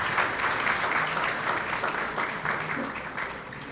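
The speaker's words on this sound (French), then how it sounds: "je vous demande de les applaudir chaleureusement." An audience at a World Public Service Day commemoration ceremony gives the choir warm, continuous applause, steady and fairly loud, fading a little toward the end.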